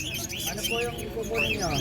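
Small spotted star finches and other little finches at a bird sale chirp in quick high tweets over a dense, busy background of many birds and market noise.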